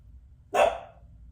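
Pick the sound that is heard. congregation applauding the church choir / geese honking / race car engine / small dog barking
small dog barking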